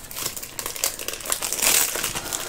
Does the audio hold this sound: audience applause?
no